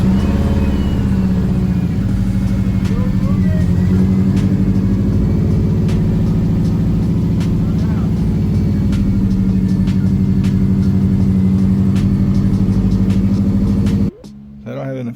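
A Subaru WRX engine fires up for the first time after an STI 6-speed swap and settles into a steady, loud idle rumble heard up close, with a person talking over it until it cuts off near the end.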